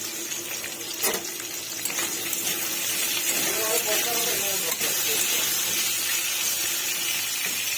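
Tomatoes frying in a wok with salt and turmeric, a continuous soft sizzling hiss with a sharp clink near the start and faint scraping, while a voice talks over it.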